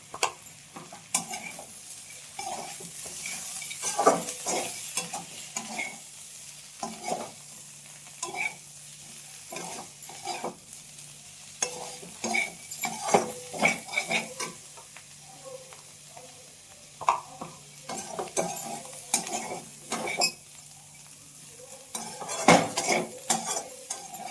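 Bitter gourd fry being tempered in a pan, with repeated scraping stirs of a metal spoon against the pan over a steady low sizzle, the clinks and scrapes coming in irregular bursts close to the microphone.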